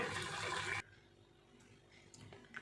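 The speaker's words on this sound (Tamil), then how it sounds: "இப்போ தண் தண்ணியை வடிகட்டி எடுத்து வச்சுக்கலாங்க" Water from boiled cabbage pours out in a short, full gush for under a second while being drained, then stops abruptly, leaving faint kitchen room sounds afterward.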